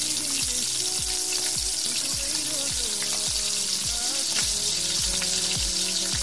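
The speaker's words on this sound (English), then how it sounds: "And let's get frying." Hot oil sizzles steadily in a frying pan while cooking tilapia, a continuous loud hiss punctuated by repeated soft clinking and scraping as the food is stirred.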